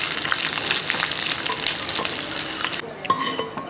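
Coconut pieces and garlic frying in hot oil for a Kerala prawn roast, a loud close sizzle with scraping stirs that drops off sharply near the end before a few clinks.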